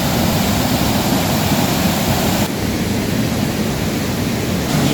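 Waterfall heard from behind the falling water: a loud, dense, unbroken roar of crashing water that holds steady from start to finish, with no voices.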